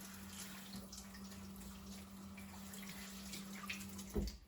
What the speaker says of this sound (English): and then put some water in